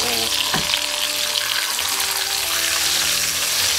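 Chicken barbecue and bacon fry together in a pan, making a loud, continuous sizzle with a bright crackling hiss that never lets up.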